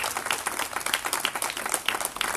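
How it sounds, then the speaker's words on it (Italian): An audience at a book presentation applauds, a dense, lively patter of many hands clapping close by for a couple of seconds with no speech over it. "Vi pregherei di fare veramente un applauso."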